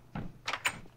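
A door opening inside a video game, a soft low thud followed by two brighter clattering bursts in quick succession, close and fairly quiet with no talk over it.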